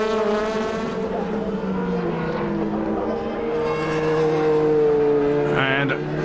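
DTM race car engines from the 2005 season howl steadily and loudly as cars pass, with a rising pitch near the end, while a commentator talks over the noise.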